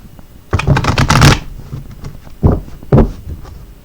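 Tarot cards shuffled by hand at close range, a dense riffling burst followed by two short separate flicks, with no talking.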